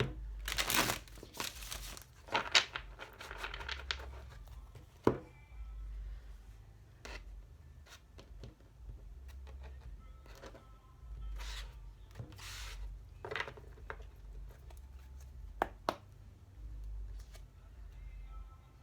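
Tarot cards being shuffled close up, papery riffles and crinkly slides in short bursts separated by quiet gaps.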